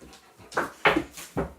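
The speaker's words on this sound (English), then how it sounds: "stream has been invaded by a dog" A dog pants indoors in three short, breathy bursts that come close together and sit near the microphone, with no talk over them.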